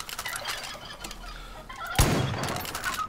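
Turkeys gobbling and clucking in the Far Cry 5 video game, a busy layered chorus of fowl calls with a sharp loud burst near the two-second mark, likely a gunshot.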